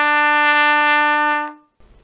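A beginner's trumpet sustains a single steady E, fingered with the second valve, for about a second and a half before fading out, followed by a brief soft rustle.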